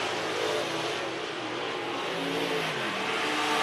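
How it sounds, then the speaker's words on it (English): A Wissota Superstock race car engine roars steadily at high revs on a dirt track during a heat race, a loud continuous drone with no break and no voices. "All by his lonesome is that number 30B car, Kevin Burdick"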